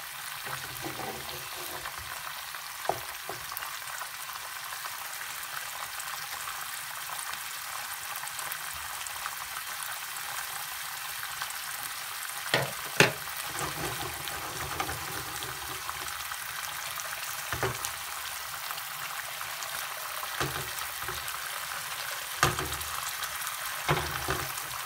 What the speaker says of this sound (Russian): пока жарится наше сладкое яйцо